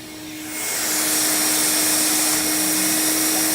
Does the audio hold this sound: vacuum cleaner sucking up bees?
yes